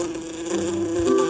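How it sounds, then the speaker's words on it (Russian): Bees buzz in the mobile game Save the Dog, a steady, loud, continuous insect drone that runs through the whole moment with no talking. "Надеюсь, пчелы не такие умные"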